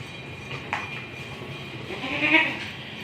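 A goat bleats a couple of times while eating dry fodder, a short mid-level call standing out against steady low background hum and some clatter.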